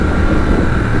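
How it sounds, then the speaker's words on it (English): Triumph motorcycle on its stock exhaust, a loud, steady engine drone with continuous rumble and wind buffeting for one unbroken second, no voices. "I'm quite surprised with this stock exhaust. It sounds really good."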